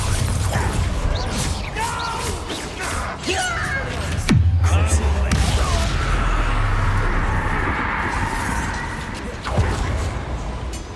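A Bombarda blast spell explodes in the game Hogwarts Legacy, a sharp booming burst over a dense, continuous bed of game sound effects and music, with a second smaller impact later on.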